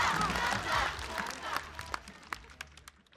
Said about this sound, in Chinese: 好，掌声，谢谢大家。